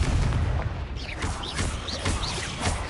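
Confringo blasting spell cast in the video game Hogwarts Legacy, a dense rumbling burst of blasts and explosive cracks with whooshing effects, loud and continuous throughout.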